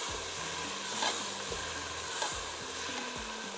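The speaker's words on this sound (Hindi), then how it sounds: "अच्छी तरह से भून लीजिएगा।" Beef mince and spices for achari biryani sizzle steadily in a pan, with spoon strokes scraping through the mixture every second or so, moderately close and without voices.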